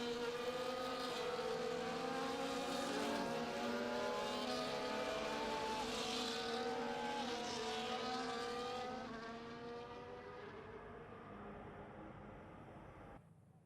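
Formula 1 cars lining up on the starting grid in F1 24, a loud continuous engine roar with layered harmonic whine that holds steady, then drops in level near the end.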